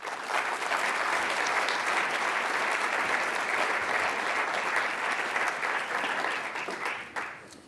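A conference audience at a systems symposium applauds to welcome an emeritus MIT professor, a dense, steady wash of clapping that holds for about seven seconds before tapering off abruptly.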